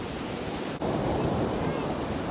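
Cold ocean surf washes onto a shore where seals gather, a loud continuous roar of breaking waves with a brief dip before the wash surges back, buffeted by wind noise and with no voices.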